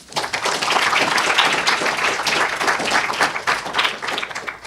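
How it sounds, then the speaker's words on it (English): An audience at an academic lecture claps to welcome a researcher to the stage, a dense, lively burst of applause that rises quickly after a brief start and holds steady throughout, with no talking over it. "now it's time for a big round of applause"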